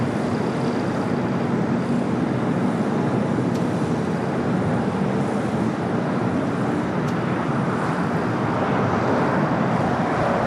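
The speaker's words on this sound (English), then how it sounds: "China Eastern, the 777-300ER, the flight heading back to Shanghai, rolling down to 24 left." A China Eastern Boeing 777-300ER rolls down runway 24 left at LAX for takeoff, producing a continuous, broad engine roar that holds steady throughout, with no voices.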